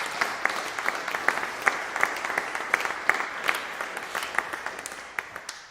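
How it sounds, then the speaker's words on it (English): An audience at an evening church talk gives a moderate round of applause, with distinct individual claps standing out from the crowd's clapping, which stays fairly even before gradually thinning out. "Please can we give Bishop Guli another big round of applause."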